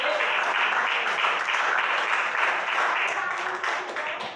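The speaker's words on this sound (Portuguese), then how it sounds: "A igreja pode sentar e bater as palmas para Jesus." A church congregation applauds during an evening worship service, a dense, steady wash of clapping from many hands that holds at an even level throughout and fades slightly at the end.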